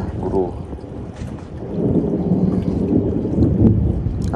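Wind and rain buffet a red fishing raft at Teluk Sengat, a steady low roaring rush that swells louder partway through, with occasional knocks and people talking underneath.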